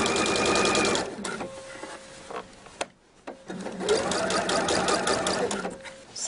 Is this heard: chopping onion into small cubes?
no